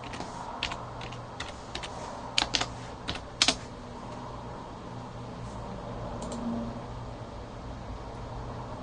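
Someone types a password on a computer keyboard in a few quick, close clusters of keystrokes, heard over a steady background hiss.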